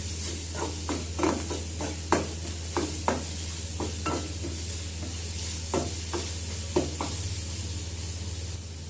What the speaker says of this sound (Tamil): இஞ்சி பூண்டு பேஸ்ட்டு சேர்த்திக்கலாம். அதை நல்லா கலந்து விட்டுக்கலாம்.